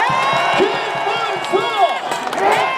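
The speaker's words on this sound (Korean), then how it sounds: "큰 박수 한번 부탁드립니다." Crowd at an outdoor presidential campaign rally in Gongju cheering and clapping, a dense continuous swell of applause and shouts with voices mixed in throughout.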